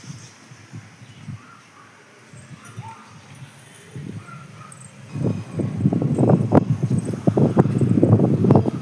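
Wind gusts of an early summer rainstorm rumbling and buffeting close to the microphone, faint at first, then growing louder and steadier in the second half.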